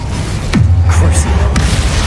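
A Confringo fire blast spell explodes in Hogwarts Legacy, one deep booming impact with a falling rumble that lingers low, with a voice shouting over the game sounds.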